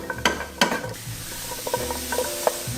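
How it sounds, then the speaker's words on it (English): Mushrooms stirred in a hot pan, with a steady crackling sizzle and a few scraping clinks of the utensil against the pan; close and fairly loud, no voices. "Mushrooms first. Oh. Mushrooms first. Yup. Stirring them."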